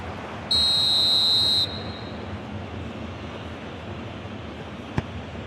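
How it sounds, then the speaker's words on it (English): A single bright referee whistle blast calls offside during an eFootball PES 2021 match, sharp and steady for about a second over a constant crowd roar, followed by a brief click. "And the whistle's gone, presumably for offside."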